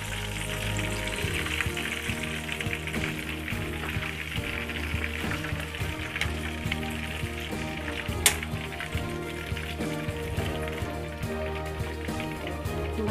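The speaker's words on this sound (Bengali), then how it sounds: "আমাদের চিকেনটা ভাজা হয়ে গেছে" Chicken scallop frying in a pan, a constant gentle sizzle with light pops and one sharp tick partway through, under background music and without voices.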